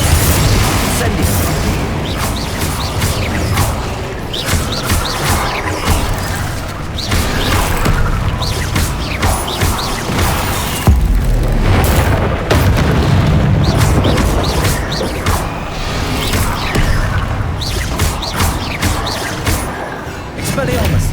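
Confringo blasts in Hogwarts Legacy, the spell's booming bursts firing repeatedly amid constant loud game combat effects, with a voice calling out spell names throughout.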